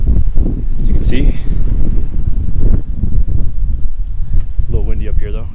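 Strong wind buffets the microphone on the summit of Springer Mountain in Georgia's Blue Ridge Mountains, a loud continuous rumble with gusty swells, and a person talks briefly toward the end.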